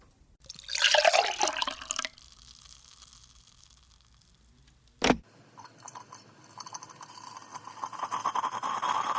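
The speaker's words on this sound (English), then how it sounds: "so I add in some water, some kitchen tool noises, and a coffee pot." Water runs and splashes as a coffee pot is filled in designed kitchen sound effects, with a burst of pouring, a sharp click, then quieter trickling and clinking that swells again toward the end.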